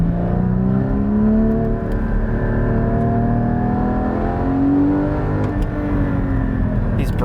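A car's engine revs and pulls through a series of turns, a loud continuous drone rising and falling in pitch as the driver accelerates and eases off, with no talking over it.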